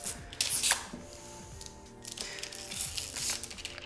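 Short hissing bursts of a spray bottle mixed with soft crinkling and peeling of car window tint film, close and fairly quiet, the sprays coming in a few uneven puffs.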